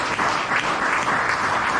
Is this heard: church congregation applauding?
yes